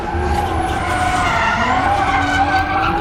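A BMW M3 drift car with 500 horsepower skidding at the International Motor Show in Luxembourg: loud, continuous tire squeal over a revving engine, sustained for the whole stretch with no talking.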